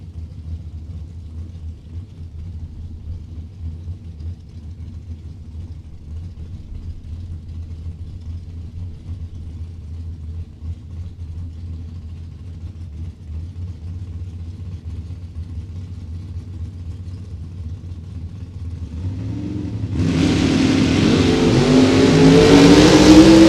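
Drag racing launch as a Chevette and a Camaro leave the line together, a steady low engine rumble at idle suddenly erupting into loud, broadband roaring that keeps building to the end.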